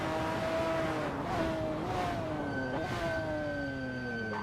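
A McLaren F1 GTR race car drives through a corner at Sonoma in a racing game. The loud engine rises and falls through several quick gear changes and downshifts, with nothing else heard.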